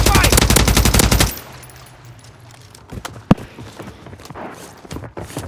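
Call of Duty gunfire opens with a loud rapid automatic burst lasting about a second. Quieter background with a few isolated sharp shots and clatter follows, including one strong crack.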